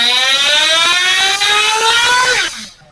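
Car engine revving hard on a dyno during a clean full-throttle pull, loud steady rising harmonic whine that climbs in pitch for over two seconds before cutting off and fading.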